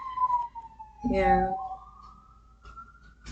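An emergency siren wails steadily as it passes along a street, gliding in pitch while a brief burst of talk cuts in near the middle.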